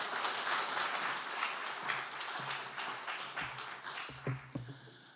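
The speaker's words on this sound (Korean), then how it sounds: "박수로 환영하시겠습니다" A church congregation claps in welcome for a pastor at a prayer gathering, a dense wash of hands that holds steady, then thins toward the end with a few louder individual claps standing out.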